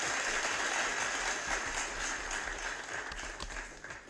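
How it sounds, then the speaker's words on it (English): Rapid clapping celebrates a giveaway winner, a dense and somewhat distant patter of hands that fades a little toward the end. No voices are heard. "Let me clap it up for you."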